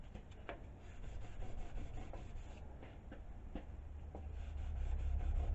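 Close hand sanding of a wooden square with a 400 grit block, soft repeated rubbing strokes in an uneven rhythm, quiet and alone.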